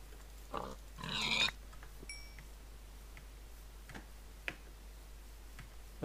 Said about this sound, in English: at least they've got some pigs here